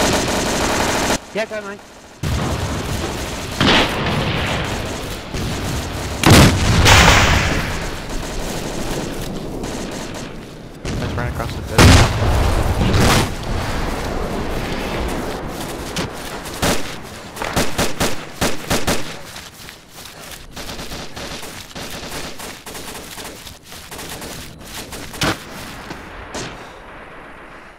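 Gunfire and explosions in the military video game Arma, with repeated loud shots, bursts and booming blasts over a rumbling engine background, while players talk over the action.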